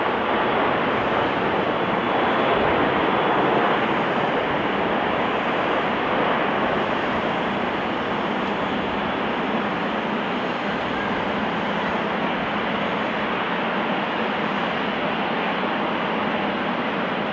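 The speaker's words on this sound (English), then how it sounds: "This Airbus A340 landing too fast due to a flaps issue, forcing it to land without flaps." Loud, steady broadband roar of an Airbus A340 coming in fast on landing without flaps after a flap fault, continuous and close for the whole stretch with no voices.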